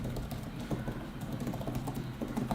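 Steady, rapid typing on an iPad Pro Magic Keyboard with soft, muted key clicks, close up and continuous, no voices.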